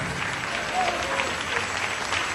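Applause from a congregation at a Spanish-language church service, a steady dense clatter of many hands lasting the whole moment, with voices mixed in.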